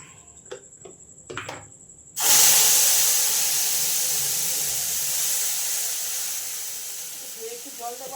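Spices dropped into hot oil burst into a loud sudden sizzle that slowly fades while still hissing; a few clinks and a brief voice come before it.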